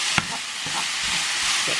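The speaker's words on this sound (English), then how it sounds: "You guys are making beef mince for dinner real quick." Beef mince frying in a pan with a steady sizzle, stirred several times with soft scraping strokes, close and continuous, no voices.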